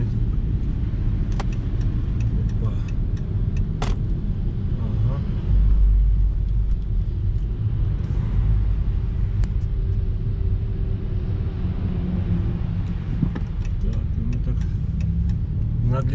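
A car drives toward the Georgian-Turkish border crossing, with a steady low engine rumble and road noise close by throughout, briefly swelling as it accelerates; a voice talks intermittently over it.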